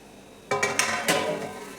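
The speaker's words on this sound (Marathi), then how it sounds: "झाकण ठेवून घेऊ" A metal lid is set down on a kadhai holding carrot rasgulla being steamed. A brief sharp clatter rings out, followed by a couple of quick metallic clinks and a short ringing fade.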